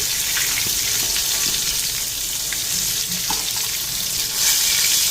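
Spices spluttering in hot oil in a pan, a dense continuous hiss of frying with scattered crackles, close and steady throughout.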